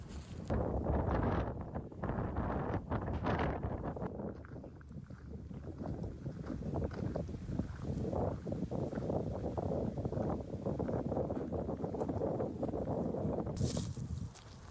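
Wind blows through woodland along a forest trail, a steady low rushing and buffeting against the microphone that swells and eases, with faint rustling and no voices.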